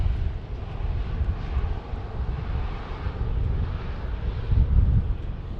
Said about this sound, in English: We got a Southwest 737-800 getting ready to, is taxiing to runway 31 right.